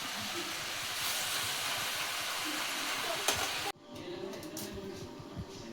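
Mushrooms sizzle and hiss steadily as they go into a hot pan with onion and chilli, with a sharp drop in the steamy hiss partway through.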